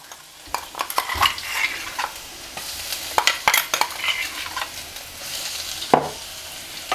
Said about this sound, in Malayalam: വെളുത്തുള്ളിയും പച്ചമുളകും, അത് ഇതിലേക്ക് ചേർത്തിട്ടൊന്ന് മൂപ്പിച്ചെടുക്കാം